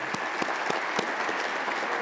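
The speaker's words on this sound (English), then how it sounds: "Let's give them a big round of applause, please." A conference audience applauds the event sponsors with a steady, dense wash of clapping, a few sharper claps standing out near the front.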